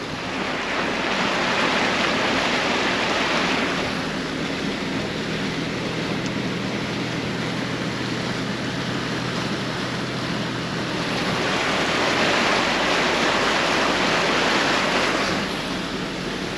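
Broad rushing roar of floodwater surging through a flooded drift park after a king tide, steady and loud with slow swells in intensity, no voices.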